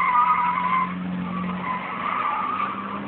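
A 2004 Subaru Forester drifting, its tires squealing in a long continuous skid with a steady engine drone underneath, loud and close.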